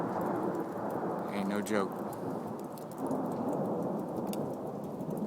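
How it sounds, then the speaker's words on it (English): Heavy rain hissing steadily during Superstorm Sandy, with a low rolling rumble of thunder underneath; someone says a few words partway through. "Hear the thunder?"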